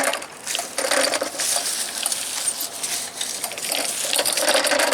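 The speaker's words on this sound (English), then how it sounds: "I can hear it picking up metal." Continuous metallic rattling and clinking as a magnet picks up small bits of metal debris, snapping and scraping together, steady and close, with no voices.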